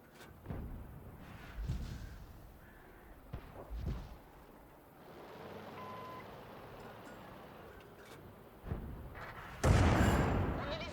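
A 105 leFH18B2 artillery gun firing a HEAT shell in World of Tanks, with scattered thuds and rumbling early on, then one loud, sharp blast near the end.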